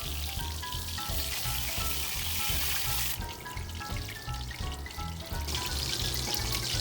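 A large chunk of pork sears in a pot for kimchi stew, a dense, continuous loud sizzle with crackling spatter and no talking.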